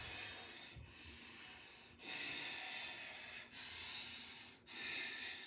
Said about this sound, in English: deep Ujjayi breath